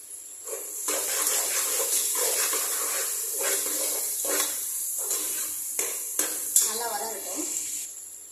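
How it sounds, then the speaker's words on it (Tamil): Tomatoes sauté in a hot pan for vegetable biryani, giving a steady hiss and crackle throughout with a few louder bursts of stirring, and a person's voice talks over the sizzle. "தக்காளி நல்லா வதங்கணும் நல்லா வதங்கட்டும்"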